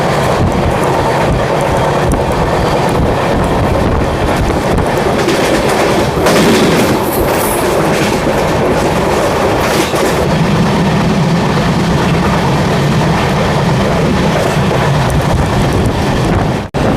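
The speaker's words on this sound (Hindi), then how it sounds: "काफ़ी अच्छे LHB ट्रैक साउंड्स आ रहे हैं।" An Amrit Bharat Express with LHB coaches runs on the track with a steady rolling roar and rattle, and wind noise over it. The sound is loud and continuous, with brief brighter bursts midway and no voices.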